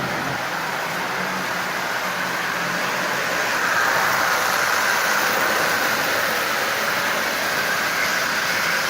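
A Marx 1666 toy steam locomotive with its tender runs steadily while pulling a string of 21 Marx cars, giving a continuous whirring, rattling hum that holds close and even throughout with no talking.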